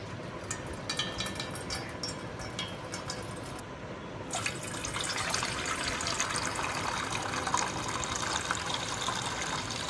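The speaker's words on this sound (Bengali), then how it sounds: "এবার এর মধ্যে দিয়ে দেবো জল।" Water is poured from about a litre measure into a cooking pot for a lemon ginger drink, a soft steady splashing trickle that grows fuller midway, fairly faint and without speech.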